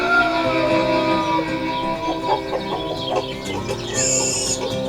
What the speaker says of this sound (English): look at all these chickens